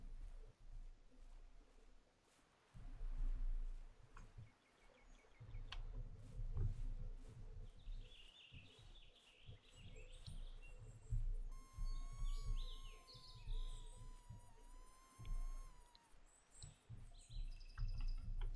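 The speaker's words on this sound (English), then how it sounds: "Oh, it was just a bird?" Birds chirp and whistle in a forest in theHunter: Call of the Wild, with a few high tweets and one long whistled call over a low rumbling ambient bed, moderately close and with no talk.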